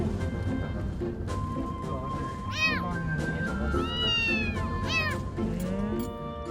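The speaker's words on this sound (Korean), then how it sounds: "주인을 찾아주기도 그렇다고 야생으로 돌려보내기도 애매한 새끼 고양이." A small kitten meows repeatedly, several high rising-and-falling cries spaced out over a steady background hum.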